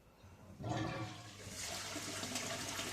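Water bursts from an opened tap fed by a ZPS15-9-140 pressure booster pump, a sudden loud hiss and rush that starts after a quiet moment and keeps flowing steadily.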